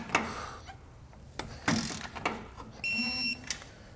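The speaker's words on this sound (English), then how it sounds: "we'll want to tighten and torque these to the specifications in the instructions" A ratchet tightens base plate bolts on a 2022 Jeep, giving several short clicking bursts and a brief mechanical whir at close range.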